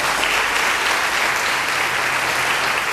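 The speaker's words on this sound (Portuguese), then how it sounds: "Aplauda o Senhor por essa verdade" Worshippers at a Portuguese-language church service clap in loud, continuous applause, a thick steady wash of hands with no voices over it.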